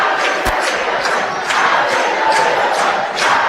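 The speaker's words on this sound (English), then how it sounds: "Boy, this crowd's been great." High school boys' basketball championship game crowd cheering and roaring in a gym, a loud, dense, continuous wash of voices with rhythmic swells like chanting.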